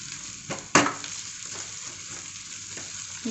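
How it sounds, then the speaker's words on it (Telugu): Onions and chopped ginger sizzle steadily in a hot pan for boondi curry, with a sharp scrape of the spoon early on and softer stirring strokes after, close and alone without voices. "ఇలా అయిపోయిన దాంట్లో ముందుగా తీసుకున్న అల్లము వేసుకోవాలి. ఉల్లిగడ్డలకు మొత్తం కలిసే వరకు కలుపుకున్న తర్వాత"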